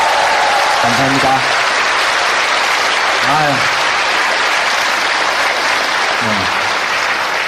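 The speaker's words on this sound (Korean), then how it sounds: "여러분 다시 한번 뜨거운 박수 좀." An audience at a Korean stand-up comedy show breaks into loud, dense, continuous applause, with a voice speaking briefly over the clapping a few times.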